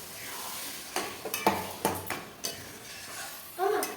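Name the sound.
mutton being stirred and sautéed in a pot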